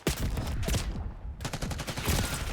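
Rapid gunfire bursts from the Black Ops 6 video game in ranked play, sharp repeated shots in quick succession with a brief gap midway, loud and close, no talking.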